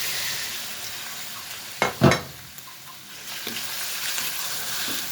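Shrimp and chopped chicken back frying in a pan, a steady soft sizzle with a couple of sharp louder crackles and stirring scrapes midway, close and without talk.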